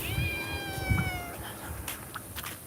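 A feral cat outdoors gives a long, drawn-out meow, loud and nearby, then trails off into quieter rustling and faint background noises.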